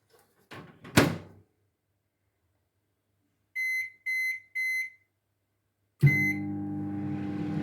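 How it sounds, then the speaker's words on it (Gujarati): A microwave oven door thuds shut, three short electronic beeps follow as it is set, then a longer beep and the steady hum of the oven starting up. "હવે આપણે એને 3 મિનિટ માટે માઇક્રોવેવ કરી લઈશું।"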